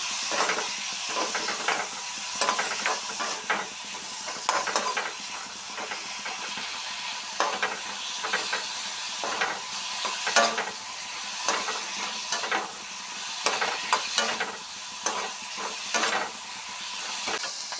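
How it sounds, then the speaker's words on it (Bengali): Ginger, onion, garlic and green chili paste fries in a pan for an egg dish, a steady broadband sizzle and hiss with repeated scraping stir strokes throughout, close and fairly loud, with no talking. "এখন দিয়ে দিচ্ছি আদা, পেঁয়াজ, রসুন, কাঁচা লঙ্কা, এগুলো"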